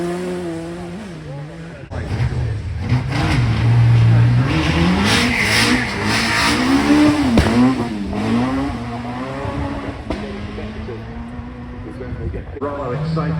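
A Hyundai i20 rally car drives at the Goodwood Festival of Speed, its engine revving loudly and rising and falling through gear changes with tire noise, while a voice talks over it.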